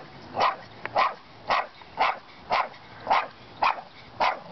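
An aging dog in an alley barks steadily, about eight evenly spaced barks in a row, each a short, clear burst at moderate distance with no other sounds.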